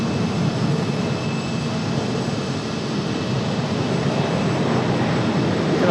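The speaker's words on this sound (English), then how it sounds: "Got a United departure." A United Airlines jet roars on departure from Raleigh-Durham International Airport, a broad, steady rumble with a thin high whine riding over it, sustained and powerful from start to finish.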